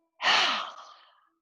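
One long, deep breath during a Hatha yoga session, a single soft airy exhale that swells quickly and then fades, close and clear against silence.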